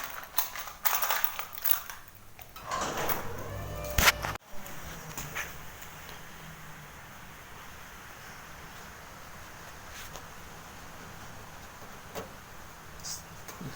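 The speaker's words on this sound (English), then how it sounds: "I'll open up the rolling door." A rolling garage door is pushed open in a workshop during a Morris Mini Cooper S restoration: a few seconds of loud rattling and scraping metal, ending in a bang, then quiet room noise with faint knocks.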